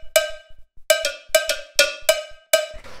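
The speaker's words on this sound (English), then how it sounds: "And then we just have these little bells down here." Two small bell tones, one high and one low, ring in a sparse lo-fi music pattern: seven clear, bright strikes with short ringing decays and quiet gaps between them, alone.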